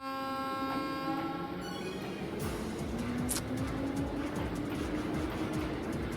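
Train moving in the video game Trails of Cold Steel II, a steady loud rumbling drone with a rising mechanical whine that fills the whole stretch, no voices over it.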